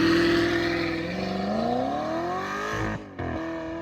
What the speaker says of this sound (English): The sound of the V10 is incredibly aggressive and unique.